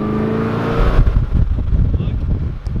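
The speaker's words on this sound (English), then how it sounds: "we are currently driving the car." A car fitted with very wide wheels driving along, a steady engine drone and road rumble heard from inside, with a brief louder thump and noisy rush partway through.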